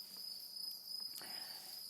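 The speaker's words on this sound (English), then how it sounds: "we can domesticate crickets from very small scale using buckets to large scale using cages and troughs like these ones" Crickets chirp steadily at a cricket farm in Kenya, where the insects are kept in buckets, cages and troughs; a continuous high trill runs throughout, fairly faint, with a few soft clicks and no voices.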